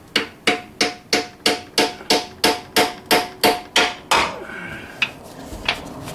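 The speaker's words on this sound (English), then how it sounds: "I'm gonna start with the small hammer." A small hammer strikes the edge of a Toyota oil pan about a dozen times in a steady, even rhythm, each ringing tap close and sharp, then a few scattered lighter knocks follow.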